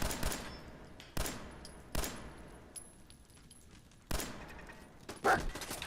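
Turret gunfire in the video game Fallout 4 comes as several sharp, loud bursts spaced a second or so apart, with quieter rattling and background game noise between them.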